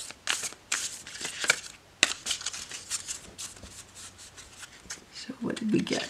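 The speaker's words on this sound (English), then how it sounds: "we shuffle it a little bit" A deck of animal oracle cards being shuffled by hand, with repeated crisp riffling and sliding bursts across the clip and a brief low voice murmur near the end.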